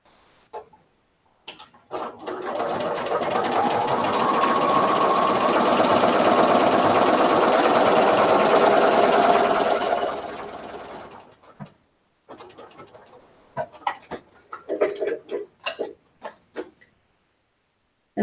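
A sewing machine stitches quilt fabric in one steady, whirring run of about eight seconds, close and loud, followed by scattered clicks and handling noises.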